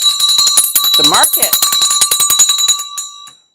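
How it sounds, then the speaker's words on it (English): A stock market closing bell rings in rapid repeated strikes with a bright sustained tone for about three seconds before fading, while someone speaks briefly over it. "market's closed. There was the bell."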